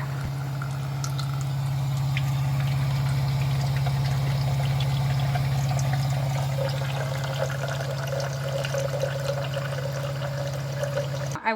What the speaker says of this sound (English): I'm going to fill this cup up and then dump it and then fill up a new one to drink